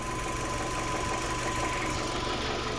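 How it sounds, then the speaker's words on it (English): A Fiat 500 1.2 engine idles steadily up close, a continuous low rumble with a faint high whine and no pauses. "engine's running"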